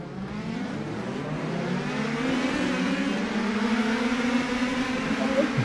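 Race cars in the Indy Pro2000 racing video game drone together in a steady, sustained engine roar whose pitch climbs and shifts as the pack runs on.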